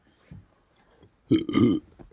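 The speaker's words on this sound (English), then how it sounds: "I cannot stop burping." A man lets out a short burp, then after a pause a louder, longer belch, both close and alone in a quiet room.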